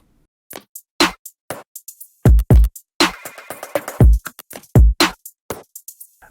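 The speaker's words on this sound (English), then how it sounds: "So again, that loop originally sounds like this." A music sample loop at its original, unshifted pitch, playing as a rhythmic pattern of sharp percussive hits, deep kick-like thumps and brief tonal bursts, loud and alone without any voices.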